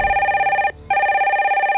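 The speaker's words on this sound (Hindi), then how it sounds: "जब भी इस फोन की घंटी बजती है" A telephone bell ringing in a Bollywood Hindi film scene: two loud, close, continuous electronic ring bursts separated by a brief gap, with no voices.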